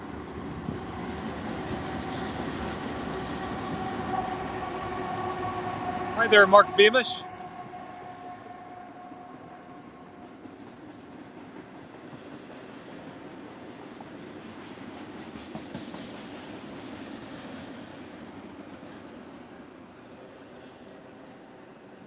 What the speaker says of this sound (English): I'm hearing the rumble of a train.